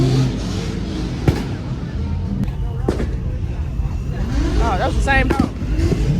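A single-turbo inline car engine revs loudly at a crowded car meet, with sharp bangs, rising whines near the end and people talking throughout.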